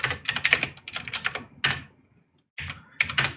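Someone types on a computer keyboard in bursts of rapid, close clicks, pauses in near silence for a moment, then taps out a few more keys, with no voices.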